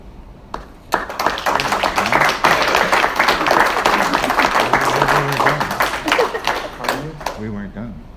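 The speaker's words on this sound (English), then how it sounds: "That was just an interim applause." Interim applause breaks out at a workshop: a burst of many hands clapping starts after a brief pause and runs dense and steady for several seconds, then thins out as voices come through.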